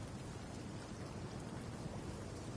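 Steady roaring storm ambience from the Fortnite battle royale zone edge, a dense rain-like wash with low rumble that holds evenly loud and close throughout, with no voices.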